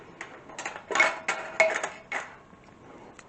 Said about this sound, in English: for the round, small round top, just place your lid on.